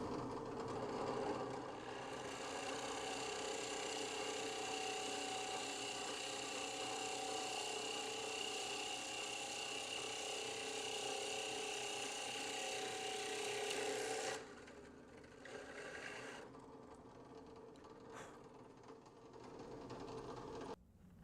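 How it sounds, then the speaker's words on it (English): A drill press bores an output jack hole into a guitar body, giving a continuous loud grinding whir for about fourteen seconds before it stops and quieter handling noises follow. "As soon as you've got it lined up, you're ready to drill."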